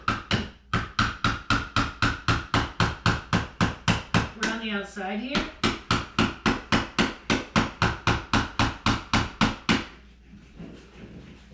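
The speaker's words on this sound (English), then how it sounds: "And then I'm slowly hammering it down." Close, steady hammer taps drive a putty knife behind a glued mirror in an even rhythm, about two or three per second. A person speaks briefly partway through, and the tapping stops near the end.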